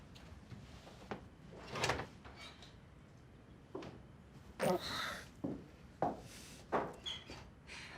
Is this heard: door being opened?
yes